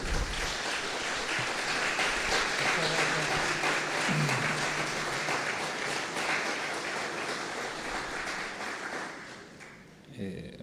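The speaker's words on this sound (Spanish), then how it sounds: "para quien pido un fuerte aplauso" A strong round of audience applause at a book fair event honoring a poet and attorney general, steady loud clapping filling the hall for around ten seconds before tapering off, with some faint speech underneath.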